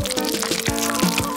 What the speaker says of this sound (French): Je préférerais verser la glaçage dessus.